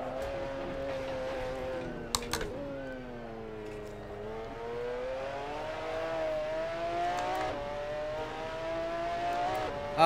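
A McLaren F1 GTR racing at Suzuka in Assetto Corsa, its engine note climbing and falling through long sustained revs with rich harmonics, heard from onboard with a couple of brief clicks.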